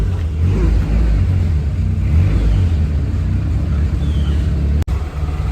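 A car engine with a full exhaust drones and revs steadily with a deep, throaty exhaust rumble, ending in a sharp click and brief dip in sound.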